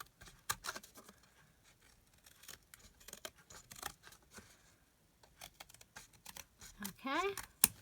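Scissors snip through paper for a junk journal in quiet, scattered cuts, some quick in pairs, with a soft voice briefly near the end.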